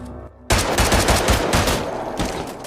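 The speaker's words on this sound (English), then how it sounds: "Ray desperately shoots back but can't hit Nick" Rapid gunfire crackles loudly in a bank robbery movie shootout, a dense burst of repeated shots beginning abruptly and continuing in quick succession with no speech.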